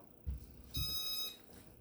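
A short electronic beep followed by a longer steady tone from the fan control of a Nutone Verandah II 52-inch ceiling fan, both quiet, with a faint low thump at the start of each.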